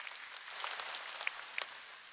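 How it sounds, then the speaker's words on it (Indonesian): An audience applauds at an Islamic religious healing and prayer gathering, a soft, fairly distant patter of clapping with a few sharper individual claps, no voices. "Tepuk tangan untuk Firby Kumalasari."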